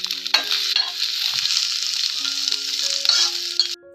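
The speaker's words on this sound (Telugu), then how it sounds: "ఇప్పుడు విప్పపూలు వేయించుకుందామండి నెయ్యిలో" Mahua flowers frying in ghee in a pan give off a loud, steady sizzle with bright crackle throughout, stirred now and then, close and continuous before cutting off at the end.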